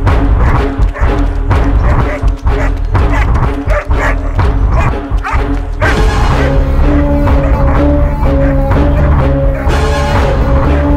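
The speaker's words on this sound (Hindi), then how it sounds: "ये आखिर इतना क्यों भौंक रहा है?" A dog barks in a dubbed action film scene: rapid, loud, close barks come in quick bursts for the first half, then give way to a steadier whining, yelping tone, with voices mixed in.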